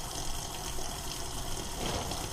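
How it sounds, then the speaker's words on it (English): Water pours steadily into a container of dried maize corn, making a continuous gushing fill sound that holds at an even, moderate level throughout. "Now I'm going to fill it with water about 2 to 3 inches above the fill line of the corn."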